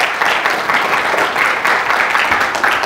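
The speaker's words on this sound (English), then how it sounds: "Give the Lord a hand clap of praise" A church congregation claps its hands in praise, a loud, dense and steady burst of applause that fills the room throughout.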